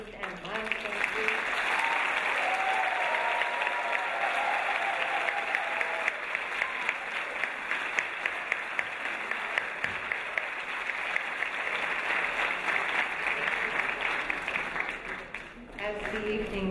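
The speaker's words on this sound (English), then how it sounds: "would you please join me in giving a resounding applause to our Dean's List and Milestone Group." An audience at an indoor Dean's List ceremony claps steadily, sustained dense applause that fills the room for over fifteen seconds before tapering off near the end.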